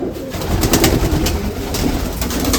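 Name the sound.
pigeons cooing in a breeding loft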